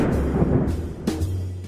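A sheet of aluminum foil is shaken to fake thunder, giving a low, rolling rumble with brief crinkling bursts rising out of it, heard close and alone.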